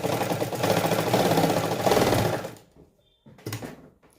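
A sewing machine stitching a round neckline runs in a fast, steady whir for about two and a half seconds, stops, then gives a short second burst, close and loud with no talking.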